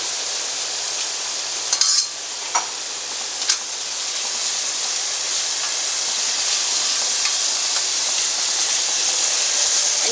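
Parsley and tomatoes sizzle in a wine-deglazed pan, a steady broadband hiss rising slightly over ten seconds with a few sharp spatters and stirring clinks early on, close and continuous with no talking.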